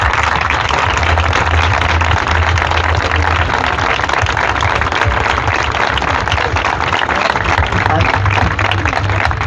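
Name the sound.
audience applause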